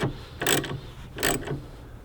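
A ratchet tightens a battery cable terminal on a Group 31, 34 or 35 battery during a battery box install, making two distinct bursts of rapid clicking, close and clear, separated by a short pause.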